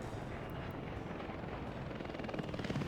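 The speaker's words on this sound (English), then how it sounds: "And I have the helicopters even delivering them now, too, so it's pretty good." Helicopters delivering construction materials in the Workers and Resources building game, a steady loud rotor drone with continuous rumbling thump, no talk.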